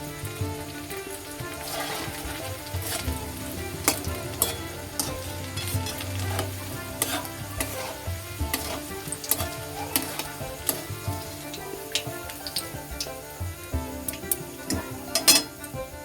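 Palm seed fritters frying in oil over moderate heat, a continuous close sizzle with frequent clinks and scrapes of a utensil against the pan, no talking.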